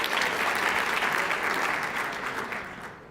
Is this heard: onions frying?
no